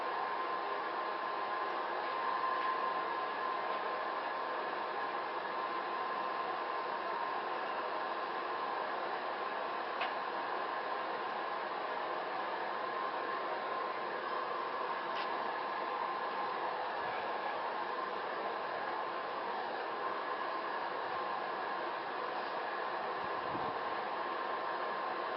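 A forge roars steadily as it gives a double bevel hunter knife blade one last burst of heat, an even, continuous rushing hiss with a couple of faint clicks and no change in level.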